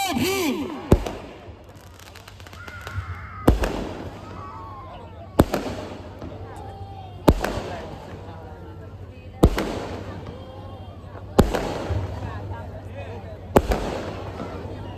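Firecrackers burst at a midnight Ambedkar Jayanti celebration in Mumbai, sharp loud bangs every couple of seconds, each trailing into crackle and echo, with crowd voices in between.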